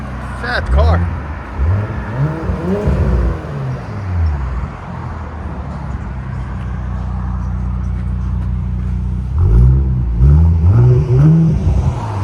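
Straight-piped 2019 Audi S7 twin-turbo 2.9L V6 blipped several times up close, a quick burst of loud revs, then a steady idle drone, then another cluster of sharp rev spikes.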